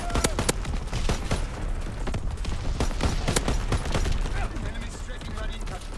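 Rapid gunfire bursts crackle through a Call of Duty WW2 multiplayer match, sharp reports repeating close and loud over a constant battlefield din, with a voice talking now and then.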